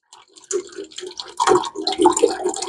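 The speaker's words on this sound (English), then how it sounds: "I'm going to add 1/2 cup of heavy cream" Heavy cream pours and splashes into a pot of broccoli cheddar soup, wet glugging and dripping sounds building after a quiet start, close by.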